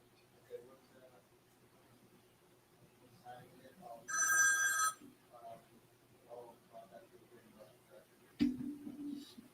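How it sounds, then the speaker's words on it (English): Office telephone in a logistics dispatch room rings in one short electronic burst midway, loud over quiet background, with people talking softly before and after. "There goes the phone with this bullshit again."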